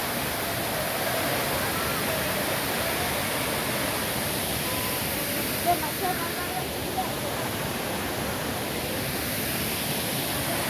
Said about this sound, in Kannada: ಹೇಗಿದೆ ನೋಡಿ, ಎಷ್ಟು ಎತ್ತರದಿಂದ ಬೀಳ್ತಾ ಇದೆ ನೋಡಿ.